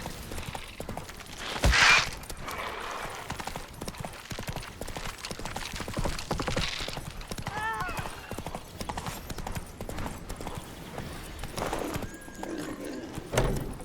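Horse hooves clip-clop along in The Witcher 3, with a loud thud and whinny early on, creaks and scattered game effects, mixed at moderate level throughout.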